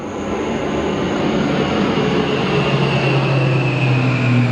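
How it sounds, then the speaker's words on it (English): A loud, steady roar of a C-130 military propeller aircraft passing overhead at night, a continuous rumble with a droning engine tone slowly shifting in pitch. "You guys are fixing to hear our aircraft that comes over every night at this time."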